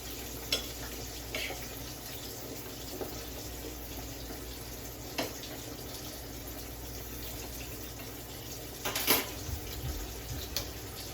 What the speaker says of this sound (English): Just flip the spinach. Make sure you get it coated in that butter.